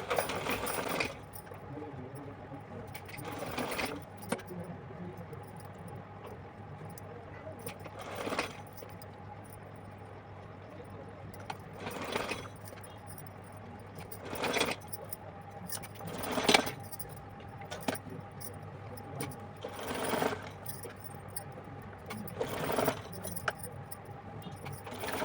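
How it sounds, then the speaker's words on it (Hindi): A sewing machine stitching fabric for a small Laddu Gopal deity dress, heard as short rattling bursts of stitching repeated about eight times at intervals, quiet and close, with a faint steady hum between bursts. "तो चलिए सिल के दिखाती हूँ आपको।"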